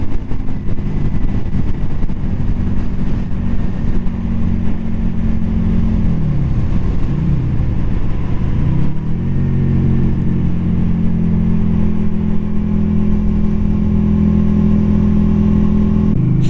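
A Yamaha V Star 250 motorcycle engine hums steadily while riding in light rain, its pitch dropping and climbing again midway as the revs shift, loud and close with constant wind and road noise and no talking.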